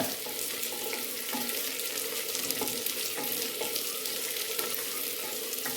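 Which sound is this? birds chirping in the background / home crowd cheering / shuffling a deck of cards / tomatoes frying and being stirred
tomatoes frying and being stirred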